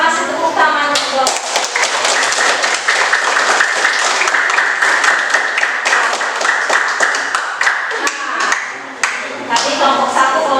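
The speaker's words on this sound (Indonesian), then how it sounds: "Kita kasih tepuk tangan untuk" A classroom group claps for a student group's infographic poster presentation, with steady, dense clapping lasting around ten seconds and voices and cheering mixed in.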